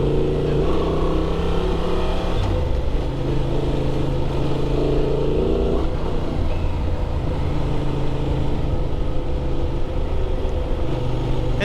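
A 2024 Honda Transalp XL 750 motorcycle rides through the desert. The engine drones loud and steady with shifts in pitch as it changes gear and accelerates, with no speech.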